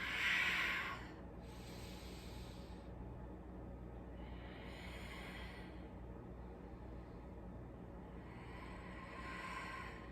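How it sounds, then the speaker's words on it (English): Slow, deep yoga breaths, with long hissing inhales and exhales heard close and fairly quiet in a calm, repeating rhythm, three breath cycles across the span. "Big, expansive, spacious inhales and long, strong exhales all the way to empty."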